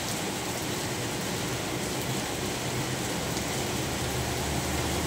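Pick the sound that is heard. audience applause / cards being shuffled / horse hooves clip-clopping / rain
rain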